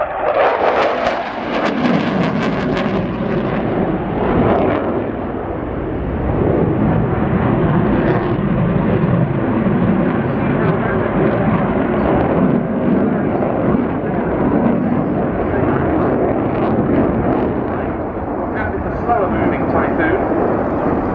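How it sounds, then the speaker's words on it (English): A military jet at an air tattoo accelerates on full reheat, a loud, sustained roaring rumble that swells and holds for about twenty seconds, with an announcer talking over it. "Aircraft accelerating with full reheat."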